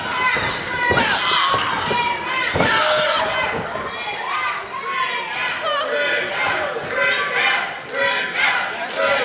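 An NWA women's championship wrestling crowd cheers and shouts throughout, with loud sustained voices and bursts of yelling filling the arena, and a commentator speaks over the noise.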